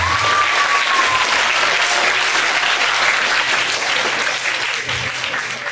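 Loud, dense audience clapping at a religious sermon gathering, continuous and steady for several seconds with a brief whistle-like tone near the start, tapering slightly at the end.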